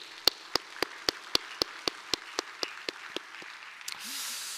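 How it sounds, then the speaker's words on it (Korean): A church congregation at Chunghyun Mission Church claps in unison, about fourteen sharp, evenly spaced claps in a quick steady rhythm, followed by a short rush of softer broadband noise. "우리 하나님께 한번 감사의 박수 한번 올려드리겠습니다."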